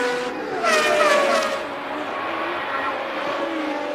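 A 1981 Ferrari Formula One car driven by Pironi accelerates hard along a straight at the Belgian Grand Prix. Its high, rising engine note surges loudly in the first second and a half, then settles into a steady roar.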